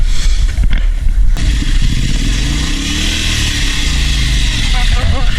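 A motorcycle engine runs steadily nearby, its low rumble rising and falling as it moves, with some clatter and a person talking over it.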